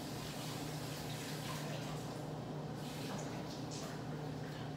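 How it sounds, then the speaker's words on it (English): Baby carrots are rinsed under a kitchen tap, a soft, steady hiss of running water with faint splashing, quiet and continuous, with no talk. "I'm gonna go ahead and rinse this out."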